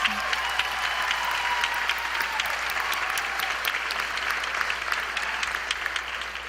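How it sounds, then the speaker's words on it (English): A crowd of parents applauds at a Southland College Prep graduation ceremony in an auditorium, a sustained dense roar of clapping throughout, slightly fading toward the end. "parents, let's give them another round of applause"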